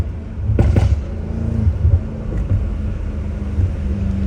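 Downpiped BMW M5 Competition crackling with sharp exhaust pops on a downshift, a couple of bursts over a steady low engine drone heard from inside the car.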